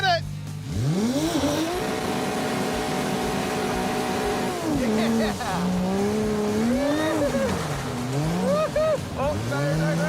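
A muscle car drifts under heavy throttle. The engine roars loudly and rises and falls with the revs, tires squeal through oversteer, and a voice talks over the noise.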